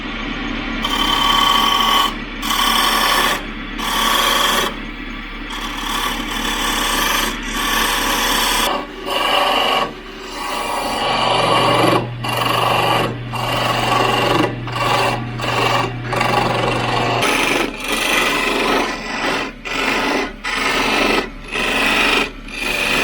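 Wood being turned on a lathe with a parting tool to mark a layout line on a handle blank, a steady rasping scrape with a constant motor hum and repeated short cuts, close and loud.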